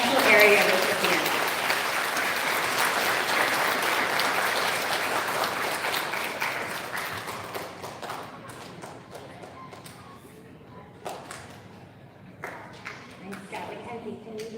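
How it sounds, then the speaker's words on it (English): Audience applause at an elementary school student recognition ceremony starts loud and full, then thins over several seconds into scattered claps, thumps and murmuring voices. "Big round of applause for our special area recipients."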